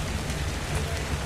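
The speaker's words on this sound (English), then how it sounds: "it did just start to rain" Steady rain falls in the survival video game Ark, a dense even hiss with a low rumbling bed running unbroken through the short stretch.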